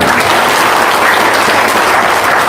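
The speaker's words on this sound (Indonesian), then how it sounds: "Ya tepuk tangan dong" An audience at an Indonesian religious talk gives a dense, loud burst of applause, continuous and close throughout with no voices over it.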